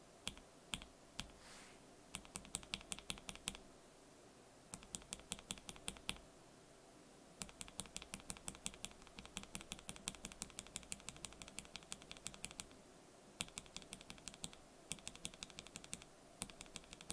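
Fast bursts of clacky keystrokes from lubed Everglide Honey Yellow mechanical keyswitches, typed in quick runs with short pauses between them, close and crisp on a quiet background.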